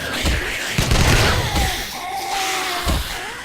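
Gunfire in the zombie survival game 7 Days to Die, a few sharp shots spread across the moment over a busy game soundscape, with talk running underneath.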